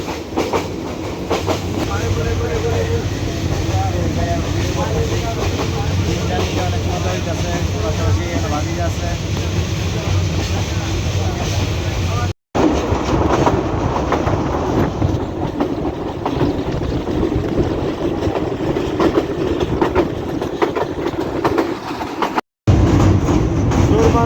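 A train rumbles steadily with clickety-clack wheel noise at a railway station in Sylhet. It is loud and continuous for the whole stretch, cut by two brief dropouts, with faint voices mixed into the clatter.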